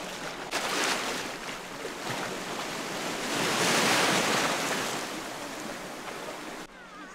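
Sea waves wash around a person wading through knee- to waist-deep water toward Dzharylhach island, a continuous loud surging roar heavy with wind buffeting the microphone.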